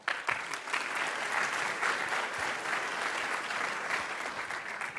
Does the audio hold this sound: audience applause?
yes